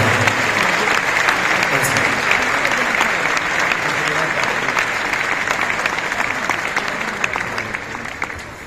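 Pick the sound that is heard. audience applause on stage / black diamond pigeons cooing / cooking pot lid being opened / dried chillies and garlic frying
audience applause on stage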